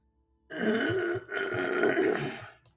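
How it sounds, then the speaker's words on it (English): A man clears his throat with a long, rough, gravelly rasp in two bursts over about two seconds, close to the microphone, with no speech around it. "I already had to clear my throat"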